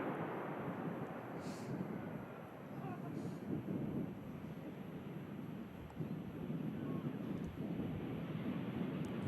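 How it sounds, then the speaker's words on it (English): An EasyJet passenger jet arriving at Manchester Airport from Gibraltar, heard as a steady, broad engine roar with wind buffeting, loud and continuous throughout. "EasyJet just arriving in from Gibraltar."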